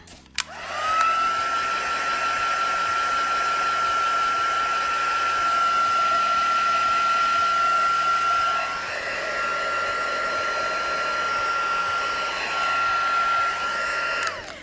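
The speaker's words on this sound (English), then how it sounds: "Let's give her a quick dry with the heat gun." A heat gun blows steadily while drying paint, giving a constant loud whirring rush with a thin whine on top that dips briefly partway through before resuming and cutting off at the end.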